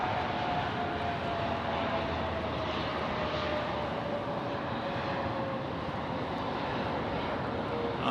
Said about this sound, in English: Vietnam Airlines getting in on runway right.